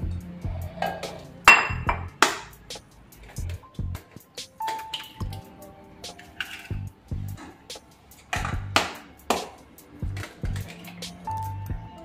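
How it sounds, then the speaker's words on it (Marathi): Eggs cracked one after another into a mixer jar for an egg cake: close, sharp taps and clinks against the container with wet squishes and drips, irregularly spaced, with no talking. "पहिल्यांदा ही आपल्याला अंडी फोडून टाकायची"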